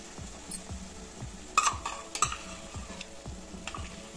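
Cream being stirred into a cooking spinach and gram flour curry, with repeated soft spoon scrapes and light clinks against the pot over a gentle sizzle, close and moderately loud, no talking.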